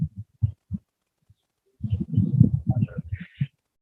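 Birds call outdoors in short, moderately close bursts, one high chirp among lower cooing notes, with brief gaps of quiet between calls.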